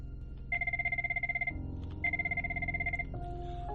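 A telephone rings in two long electronic bursts with a fast warbling pulse, each about a second long and separated by a pause, over a low steady hum.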